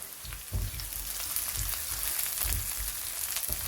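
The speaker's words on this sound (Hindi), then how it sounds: "ये अनियन हल्की सी फ्राई हो गई है" Onion frying in a pan gives a close, steady sizzle and crackle, broken by a few soft thuds like stirring, with no one speaking.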